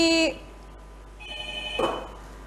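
A telephone rings briefly at the start with a bright electronic tone before an incoming call-in to a live Quran recitation contest broadcast, followed by a quieter tone and low background hum.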